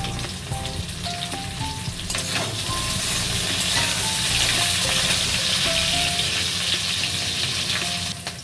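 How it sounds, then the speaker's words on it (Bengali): Chunks of red potato and drumstick vegetable fry in hot oil in a pan for shukto, giving a steady, close sizzle throughout, with occasional stirring scrapes and clinks. "তার সাথে দেবো আমি কেটে রাখা লাল আলু, দেবে আমি কেটে রাখা সজনার ডাঁটা, এটাও আমি ভালো করে ভেজে নেব।"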